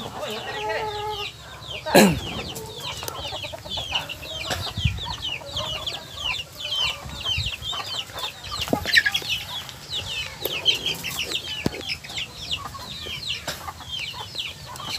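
Chickens cluck and chatter steadily against a busy, noisy farmyard background, with a few louder sharp calls standing out.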